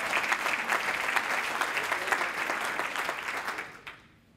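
A room of dinner guests applauding at a celebration dinner, loud dense clapping that holds steady and then quickly dies away near the end.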